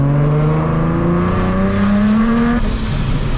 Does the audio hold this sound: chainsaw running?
no